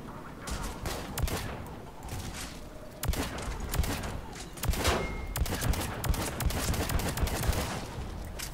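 Rapid bursts of gunfire from the video game Mass Effect 3, sharp repeated shots and sustained fusillades at close range, with short gaps between volleys and louder clusters later on.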